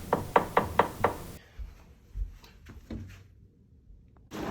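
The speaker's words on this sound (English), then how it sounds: "I hear a knocking on my door." Five sharp, evenly spaced knocks on a door, close and crisp, followed by quieter shuffling and faint thuds.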